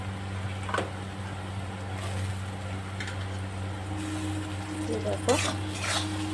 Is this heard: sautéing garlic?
yes